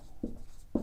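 Two short, soft strokes of chalk or a marker on a classroom board during a physics lesson, each a brief low scrape, close and quiet with no talking.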